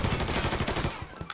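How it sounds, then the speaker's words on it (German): A short, dense burst of rapid automatic gunfire in the video game Mafia 3, loud and continuous for about a second before trailing off into a few scattered shots. "Hat er gleich angefangen zu schießen."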